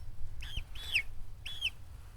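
Red chickens being handled give three short, high peeping calls with soft clucking undertones, close and fairly quiet against low background rumble.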